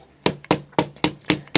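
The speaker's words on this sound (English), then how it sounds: "And gently hammer it in," Hammer tapping a nail into a canvas for a necklace holder craft, six light, evenly spaced metallic taps, close and clear, with no voices.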